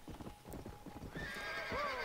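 A horse in the Red Dead Redemption: Undead Nightmare video game clip-clops in quick hoofbeats, then lets out a loud, rising whinny near the end.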